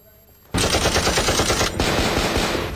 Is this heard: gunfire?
yes